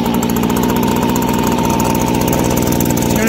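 The two-stroke engine of a Stihl handheld blower runs steadily after being choked, fitted with a replacement fuel system kit. It gives a loud, continuous buzzing drone close to the listener and never drops out.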